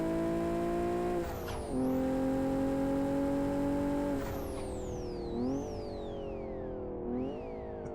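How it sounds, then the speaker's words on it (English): Old-school Japanese car in Live For Speed with a loud, full turbo, engine droning steadily while a high whistling spool rises and falls through several gear changes, each shift marked by a dip and climb in pitch. "The turbo sounds."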